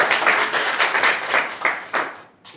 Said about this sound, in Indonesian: berikan tepuk tangan ya